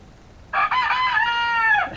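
A rooster crows once, a loud close cock-a-doodle-doo lasting about a second and a half after a brief quiet start, indoors near potting plants.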